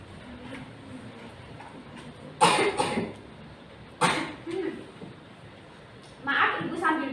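Three bursts of coughing break through a quiet classroom, each a short cluster of harsh coughs from the woman teacher, who speaks softly between them.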